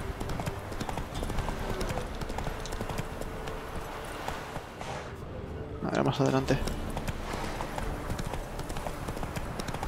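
Roach's hooves clip-clop steadily in The Witcher 3: Wild Hunt, a continuous trotting rhythm beneath game music and someone talking, with a brief voiced burst partway through.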